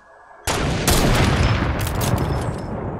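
A grenade blast in Fortnite bursts in loudly and stays as a sustained, dense roar with crackling gunfire-like bursts layered on top over a few seconds, no talk.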